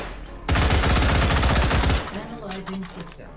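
SKS rifle firing in the H3VR video game, a rapid burst of loud gunshots lasting about a second and a half, followed by quieter mechanical clicks and handling noises.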